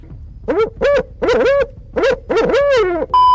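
An owl hoots in a series of loud, close, wavering calls, about six in quick succession with short gaps between them.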